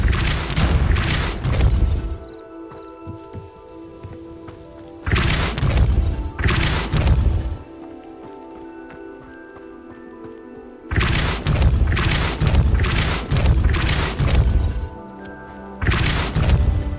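Depulso force-blast spells in the Hogwarts Legacy video game go off in loud, booming clusters of thuds and crashes, several bursts separated by quieter stretches of ambient game sound.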